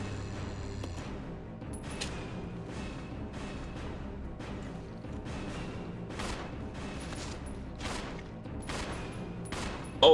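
Repeated gunshots ring out in the Resident Evil 0 video game, about a dozen sharp reports at an irregular, fairly steady pace over a low background rumble of game music and ambience.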